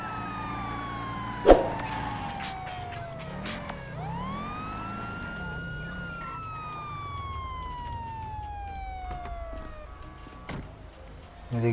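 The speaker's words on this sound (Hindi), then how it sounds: "तो सायरन ऑन करने के लिए ई दबाना है आपको।" A police siren from a Mustang GT mod in GTA 5 sweeps up and down in long wailing cycles, loud and clear, with a sharp thump near the start and a brief voice.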